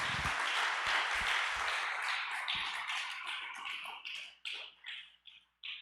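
A church congregation applauds, beginning with a dense wash of clapping that thins out into separate, scattered bursts of claps before dying away.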